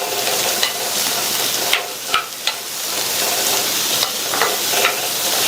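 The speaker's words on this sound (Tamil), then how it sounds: "அடுத்து இதுல கட் பண்ணி வச்ச 300 கிராம் புடலங்காயை சேர்த்துட்டு நல்லா ஹை ஃப்ளேம்ல வச்சு 2 நிமிஷத்துக்கு எண்ணெயிலேயே நல்லா வதக்கி விட்டுக்கோங்க." Cut snake gourd, 300 grams of it, is stirred and sautéed in oil over a high flame in a continuous loud sizzle, with sharp clacks of the utensil against the pan at irregular moments.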